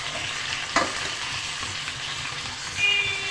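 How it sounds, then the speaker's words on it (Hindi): Chicken pieces fry in hot oil in a wok, giving a continuous soft sizzle with a sharp clatter early on and stirring scrapes, close and steady with no talk. "ऑयल के अंदर चिकन हम डालेंगे"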